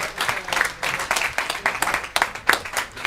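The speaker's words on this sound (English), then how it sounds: "Give them a round of applause here." Scattered clapping from a small audience at an under-18 boys and girls bowling scholarship tournament, honoring four youth bowlers; uneven bursts of hand claps, fairly faint and thin, with some background murmur.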